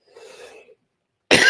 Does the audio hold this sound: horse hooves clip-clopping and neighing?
no